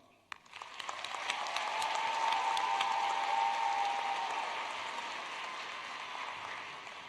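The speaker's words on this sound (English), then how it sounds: "Please join me again in applauding them." Audience applause fills a university commencement ceremony, a dense steady clapping that swells quickly after a sharp opening clap, holds loud for several seconds, then slowly thins and fades.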